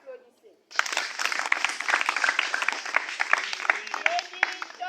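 Church youth retreat audience bursting into sustained applause after a short pause, dense close clapping with cheers mixed in.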